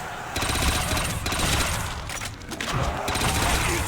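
A World at War Zombies machine gun on The Giant map fires in fast, buzzsaw-like bursts, loud and close, with brief gaps between rapid strings of shots amid game noise.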